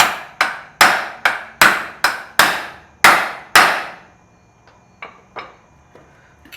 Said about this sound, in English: Alright, so we got the new U-joint. Now we just need to persuade it into place.